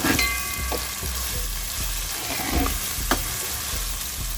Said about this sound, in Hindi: अदरक लहसुन को भी थोड़ा सा सौते कर लेते हैं, फ्राई कर लेते हैं